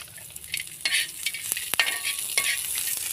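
Peanuts and coriander seeds fry with a steady high sizzle in a pan for a spicy fish curry, while a spoon stirs them with several sharp scraping knocks. There is no talk.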